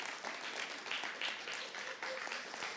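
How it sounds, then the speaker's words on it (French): A church congregation applauds in a steady wash of clapping that lasts nearly three seconds. It sounds somewhat distant, and a few voices mix in. "Comment une bonne main d'applaudissement pour un Dieu qui suscite des émotions"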